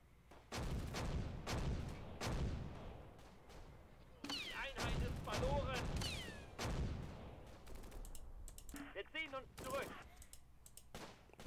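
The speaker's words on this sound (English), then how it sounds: "heavy mortars coming down now" Heavy mortar barrage in the WWII strategy game Close Combat: Gateway to Caen, with repeated loud booming impacts and blasts in quick succession, while someone talks over the explosions.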